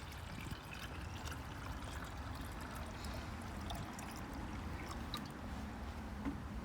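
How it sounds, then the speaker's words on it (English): Water pours steadily from a jug into a self-watering WallyGro planter holding a calathea, a continuous trickling splash under soft background noise. "Okay, I'm gonna fill my jug here with more water."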